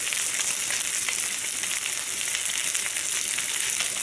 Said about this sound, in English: So I'm going to add in my onion.